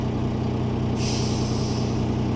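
A truck's air brake releases a long, loud hiss over the constant low rumble of heavy road traffic and idling engines.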